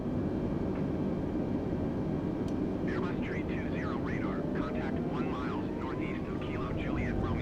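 Steady engine drone of an Airbus A320 cruising in Flight Simulator 2020, a constant even roar throughout, with a voice talking over it in the second half.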